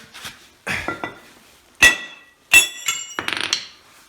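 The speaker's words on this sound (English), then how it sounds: "Let's see what a little bit of a hammer could do to that" Several sharp, ringing hammer strikes on welded metal of a motor stand, spaced irregularly with short pauses, the last a quick rattling burst of blows, close and loud.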